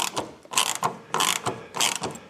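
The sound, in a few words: ratchet turning a T25 Torx screw on a door latch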